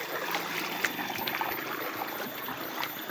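A river stream flows at the foot of a mountain, giving a steady, moderately loud broadband rush of water with faint trickling detail and no talk.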